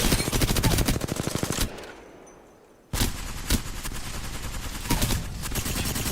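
Sustained automatic fire from an R-301 assault rifle in a first-person shooter video game, rapid evenly spaced shots in two bursts separated by a brief pause, loud and close.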